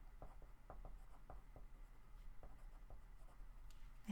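A pen scratches across paper in a planner during monthly planning, with a quiet run of short, separate strokes and brief pauses between them. No one speaks.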